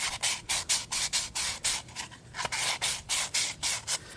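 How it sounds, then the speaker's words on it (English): 220-grit sandpaper rubbed over a lead plumbing stack on a roof, brisk back-and-forth scraping strokes in a steady rhythm, close and clear with no talk. "take some 220 sandpaper and kind of get off some of those rough edges off."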